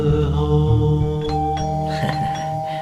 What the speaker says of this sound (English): Roman rings the doorbell of